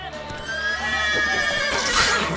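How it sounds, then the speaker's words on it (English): A horse neighs in the video game The Witcher 3, a loud, close whinny with a wavering pitch lasting about two seconds, over faint background ambience. "Whoa there, Roach."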